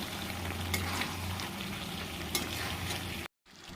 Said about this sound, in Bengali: নুন হলুদ দিয়ে ভেজে রাখা আলুগুলো দিয়ে দিয়েছি এরপরে ভালো করে এগুলো মিশিয়ে নিয়ে একটুকু ঢাকা দিয়ে দেবো